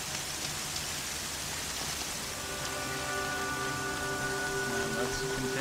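Steady rain in the Horizon Zero Dawn video game falls as a continuous hiss, with faint tonal game sounds rising beneath it in the second half.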